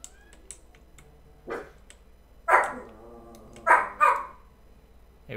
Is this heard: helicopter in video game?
no